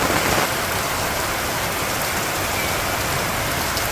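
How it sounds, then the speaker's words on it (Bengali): Heavy rain pours steadily in a Bangladeshi village at night, a dense, even hiss of drops on surfaces that stays loud and unbroken throughout. "এই যে পাশে মোটামুটি ভালো রকম বৃষ্টি হইতেছে"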